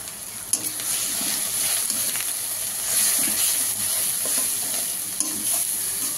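Spice masala of chilli powder, turmeric and salt fries in a pan for dui katla, a steady close sizzle under repeated stirring scrapes with a few sharp clicks, no talking.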